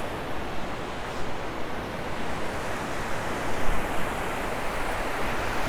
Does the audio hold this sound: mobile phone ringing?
no